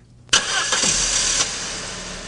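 A Saab 9-5 from 1999 cranks briefly and then fires up, with a sharp onset followed by a steady, fairly loud idle, heard close with no talking.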